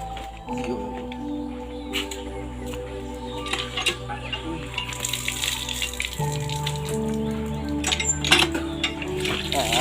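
Water runs steadily from a tap into a basin as someone washes their face, a continuous splashing with soft clinks, under a sustained tonal hum.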